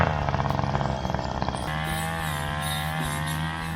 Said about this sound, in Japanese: 草刈りと重機で開拓していきます